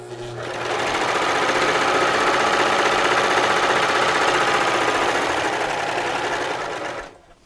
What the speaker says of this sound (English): When you're gathering the fabric, let the fabric feed through easily by itself